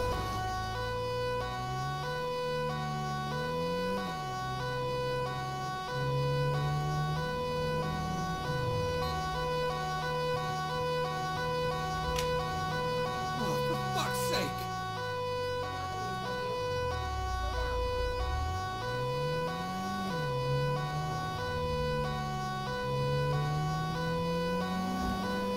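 A police-style emergency siren in GTA 5 wails continuously, sweeping up and down in repeated cycles, loud and close like it's mounted on the vehicle, with steady engine hum beneath and no talking.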